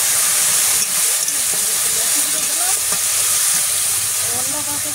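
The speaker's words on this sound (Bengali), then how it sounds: "একটু ভাজে নিয়ে একটু কলের জল দেবো।" Tap water poured into a pan of frying elephant foot yam with salt and turmeric makes a loud, steady hiss and sizzle that fills the whole stretch, with faint crackles beneath.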